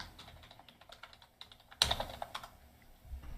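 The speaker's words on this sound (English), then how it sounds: "Typing." Rapid keystrokes clatter on a computer keyboard, close and busy, with one sharper, louder burst of clicks partway through.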